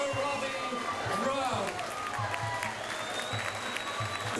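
A crowd applauds and cheers for a Muay Thai fighter at a fight event while an announcer's voice carries over a continuous wash of clapping.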